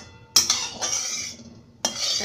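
A metal spoon scraping and clinking around a kadhai while spreading a spoonful of oil over its surface, two bursts of close scraping with a short pause between, no talking.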